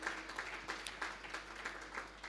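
Applause at an award ceremony honouring Dave sahib, a crowd's steady clapping heard moderately close and continuing without a break.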